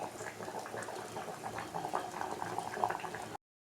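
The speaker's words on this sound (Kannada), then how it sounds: "ಸೊ ಈ ಕಡೆ ಸಾಂಬಾರು ಕುದೀತಾ ಇದೆ." Sambar boils in a pot on the stove, a soft, steady bubbling and popping that is fairly quiet and close, with no voices over it, ending abruptly.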